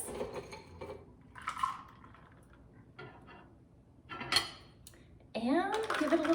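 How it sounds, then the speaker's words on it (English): Ice cubes clatter and clink into a glass while a Ruby Mule cocktail is made, a few bright bursts with handling noise between them, then a final louder rattle and swirl near the end. "So I'm gonna add some cold ice to this."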